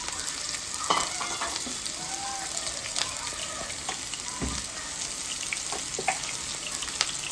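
A medium-sized cut onion fries in hot oil for a potato stir-fry, giving a steady, close sizzle with intermittent scraping and clinking as it is stirred.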